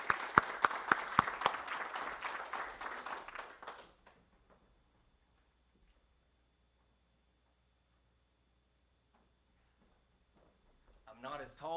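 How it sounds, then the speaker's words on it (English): Applause from a board meeting audience, a few sharp loud claps up front, then a room of hands clapping steadily for about four seconds before dying away into quiet, with voices picking up again at the end. "So give Ken a big round of applause."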